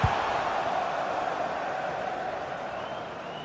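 A football crowd roars steadily in a match broadcast, a broad continuous wash of massed voices from the stands with no distinct commentary over it.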